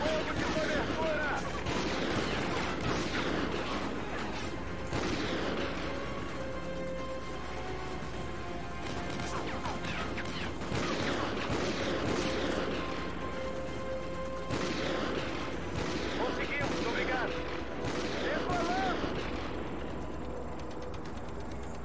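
Sustained gunfire and explosions rattle through a Call of Duty: Ghosts firefight, a dense layered barrage of repeated shots and blasts running the whole time under game noise, with a voice speaking at moments.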